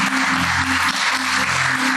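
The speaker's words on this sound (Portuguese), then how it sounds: "Se você pode, aplauda ao Senhor." Church congregation clapping together in praise, a dense, even wash of applause with a sustained musical hum underneath, close and loud for the whole moment.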